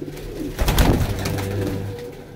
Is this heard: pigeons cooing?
yes